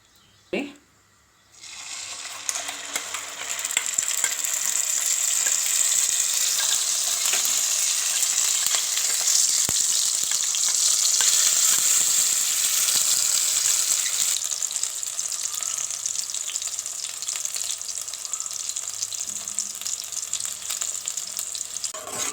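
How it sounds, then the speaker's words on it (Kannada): Oil fries loudly in a pan while Schezwan fried rice is prepared, holding a dense, steady sizzle for about twenty seconds after a short quiet start and a single knock. "ಇದನ್ನು ಚೆನ್ನಾಗಿ ಫ್ರೈ ಮಾಡ್ಕೊಬೇಕು ಎಣ್ಣೆಯಲ್ಲೇ"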